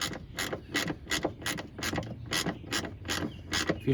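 A socket wrench spins a 5/16 bolt, about 8 mm, giving a steady run of rapid ratcheting clicks, evenly spaced about twice a second, close and fairly loud, with no talking.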